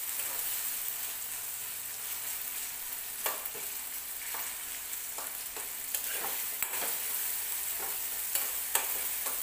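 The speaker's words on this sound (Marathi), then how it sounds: "अजून एखाद मिनिटभर टोमॅटो भाजला सॉफ्ट होऊन जाईल" Tomatoes fry softly in a pan for a chicken dish, a quiet, even sizzle broken by occasional light scrapes and taps as they are stirred, with no voices.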